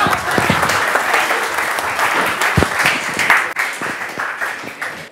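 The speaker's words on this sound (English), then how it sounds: "Those people clap for me also." Applause from an audience at a talk on weight loss: a dense, continuous wash of many hands clapping, steady and fairly loud throughout.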